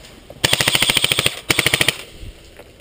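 Airsoft guns firing during a game at an old flea market, two rapid full-auto bursts of loud, fast, evenly spaced snaps close by, then quiet.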